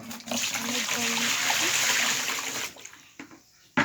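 Water splashing and trickling while a young girl is bathed at home, a steady close wash of splashing that stops abruptly near the end, with faint background voices.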